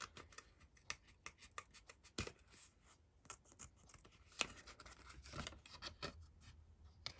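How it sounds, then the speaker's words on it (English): Pergamano scissors snip out a paper card in close, quiet, irregular clicks and crisp cuts, one after another with small pauses, and no talking over them. "Just using my Pergamano scissors to cut that out"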